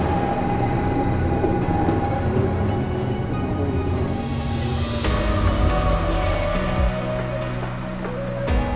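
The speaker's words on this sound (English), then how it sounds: "train's leaving Aeri Montserrat" A train departing Aeri Montserrat rumbles steadily and loudly nearby, its wheels squealing and a rising hiss sweeping through as it pulls away along the track.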